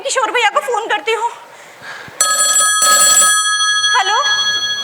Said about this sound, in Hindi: मैं किशोर भैया को फोन करती हूँ।